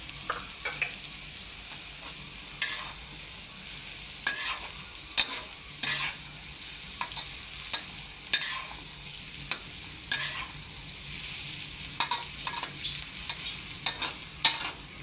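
Vegetarian Thai long beans being stir-fried with sauce and sugar in a pan, a steady close sizzle broken by repeated scraping and clacking stirs of the spatula, with no voices.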